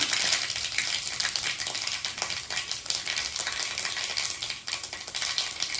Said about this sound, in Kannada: ಎಣ್ಣೆ ಬಿಸಿ ಆಗ್ತಿದೆ ಈಗ ನಾನು ಸಾಸಿವೆ ಹಾಕೊತಾ ಇದ್ದೀನಿ ಮತ್ತು ಜೀರಿಗೆ ಇದ್ದೀನಿ